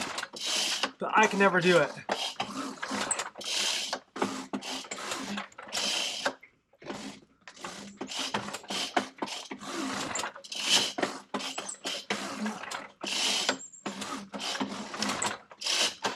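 Someone yanks the pull cord of a choked leaf blower again and again, each pull a quick rasping zip, in a rapid irregular series, and the engine never catches; a voice speaks briefly.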